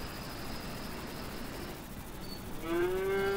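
A cow moos in the farming game Agrar Simulator 2013, one long low call rising clearly above steady engine-like background noise.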